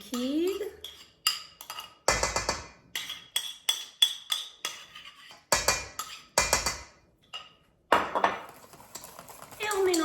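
A whisk or spoon clinks and scrapes rhythmically against a bowl while liquid cream is mixed into a creamy quiche filling of salmon, broccoli and ricotta, loud and close, in brisk bursts with short pauses.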